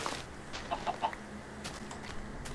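Chickens cluck in short soft bursts on a blocky Minecraft chicken farm, a few quiet calls spaced close together over a steady low background with no talking.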